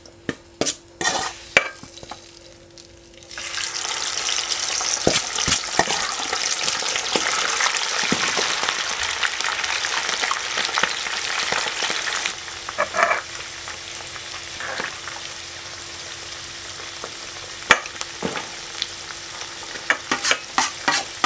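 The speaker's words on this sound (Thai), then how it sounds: "ตอนเราทอดมันอาจจะกระเด็นนิดนึงต้องระวังให้ดีนะครับ" Battered pork intestines deep-fry in hot oil, giving a loud bubbling sizzle that swells after a few seconds of clinking and scraping, then settles into quieter frying broken by occasional utensil taps, with no talking.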